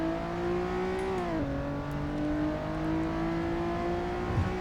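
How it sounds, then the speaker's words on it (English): Honda NSX engine in Assetto Corsa held at full throttle, a steady loud drone with a brief pitch dip near the middle before it climbs again, continuous and alone. "Let's kick this guy into full throttle"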